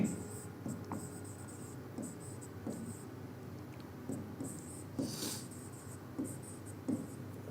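Writing on a board during an electrical engineering lecture on sequence networks, faint rhythmic scratchy strokes in short bursts, quiet and close with low room noise.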